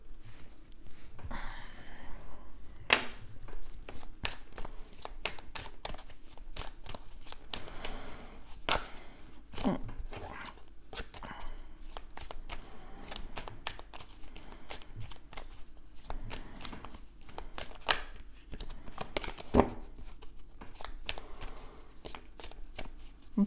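Oracle cards are shuffled over and over for a reading, a long run of close, quick papery riffles and slaps with short pauses between bursts, with no talking.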